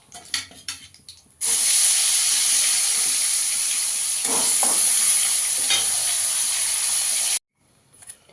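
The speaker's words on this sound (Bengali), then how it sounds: "বাকি মাছগুলো ভেজে নেব।" Fish frying in hot oil in a pan, a loud, continuous sizzle and hiss that starts suddenly, holds steady for about six seconds with some stirring crackles, then cuts off.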